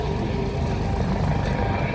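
A US Coast Guard HH-65E Dolphin helicopter flies at the Ocean City, New Jersey airshow, its steady rotor and turbine roar dense and continuous with no pause across the two seconds.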